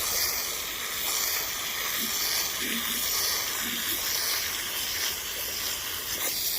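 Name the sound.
rinsing a wool area rug with water spray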